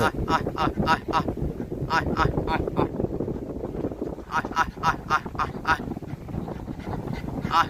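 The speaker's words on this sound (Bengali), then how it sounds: "দেখুন এক জাক হাঁস বহর নিয়ে আমাদের দিকে আসছে" A flock of ducks on the Tahirpur haor wetland in Sunamganj quacks in loud, rapid bursts nearby, in two clusters separated by a quieter gap, over wind rumble on the microphone.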